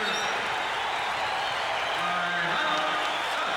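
Basketball arena crowd at Veterans Memorial Coliseum on their feet during a timeout late in a Knicks versus Suns game, a dense roar of cheering and clapping throughout, with a commentator's voice faintly over it.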